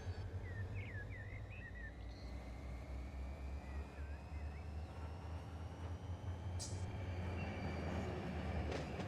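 A freight train moves in the Run 8 train simulator game, giving a quiet, continuous rolling rumble with faint thin squealing tones drifting above it.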